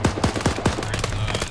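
Rapid automatic gunfire from enemies in a military video game operation, a burst of sharp close shots in quick irregular rhythm over a low rumble.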